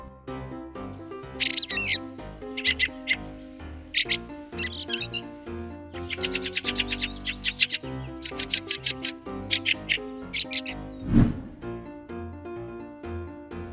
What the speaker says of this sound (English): Aztec thrush.